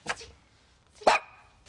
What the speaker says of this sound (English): What's wrong with your dog?